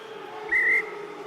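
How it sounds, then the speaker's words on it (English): A referee's whistle sounds once at an under-20 France versus Italy rugby match, a short shrill blast of about a third of a second over steady crowd and stadium noise. "Referee blew his whistle straight away."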